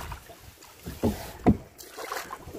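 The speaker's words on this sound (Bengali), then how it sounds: "দাঁড় বাইছি" Oars row a small boat on a river near Lalganj sea beach, Bakkhali, after its motor failed, giving a few soft splashes and knocks about half a second apart, fairly faint.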